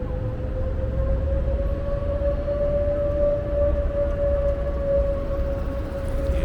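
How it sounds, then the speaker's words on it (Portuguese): A train at Estação da Luz station in central São Paulo at night, a sustained whining drone like a jet turbine holding one steady pitch over a low rumbling background, continuous throughout with no talking. "esse barulho que vocês estão ouvindo parece turbina de avião, mas na verdade é de trem mesmo"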